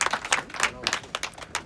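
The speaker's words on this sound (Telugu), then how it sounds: "సో గట్టిగా చప్పట్లు కొట్టాలి." An audience at a property sale event applauds guests called up to the stage, with brisk, uneven clapping from a moderate crowd throughout.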